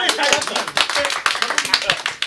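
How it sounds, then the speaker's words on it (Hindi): An audience claps at a musical celebration programme marking its 179th episode. The claps are dense, close and irregular, mixed with voices throughout. "ताली ताली ताली"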